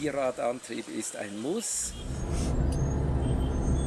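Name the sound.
four-wheel drive car driving on a rough road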